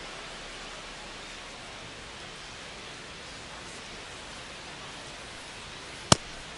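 Steady rain pours in a baseball stadium in MLB The Show 25, a dense, even hiss that continues unbroken throughout, with one sharp click near the end.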